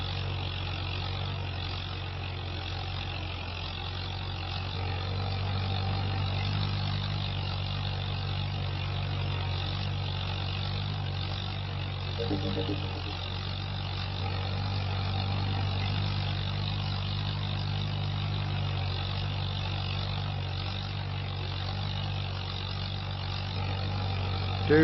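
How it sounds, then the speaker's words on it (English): An Allis-Chalmers WD tractor engine runs steadily at a distance while drilling winter crops on a 1946 farm, producing a continuous low, even drone with no speech. "this Alice WD is doing a grand job so far."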